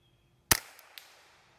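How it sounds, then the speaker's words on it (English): A single sharp, loud report from a Volquartsen Oryx .22LR semiautomatic rifle, followed by two faint distant ticks, likely steel target hits, with no talking. "Let's just shoot it a few times."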